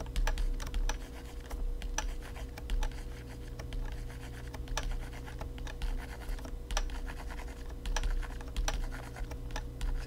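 Rapid, crisp clicks and taps from a pen on a drawing tablet as the eyedropper tool is used during tablet setup, close and irregular over a low steady hum.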